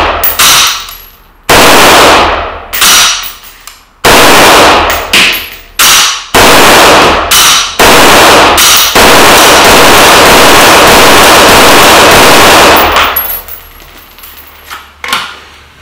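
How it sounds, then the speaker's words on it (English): VZ 58 MARS rifle from Caledonian Classic Arms firing a rapid, loud string of close shots in bursts, sharp cracks with ringing echoes between them, followed by a fading tail. "The next pull of the trigger fires the rifle and just watch what happens."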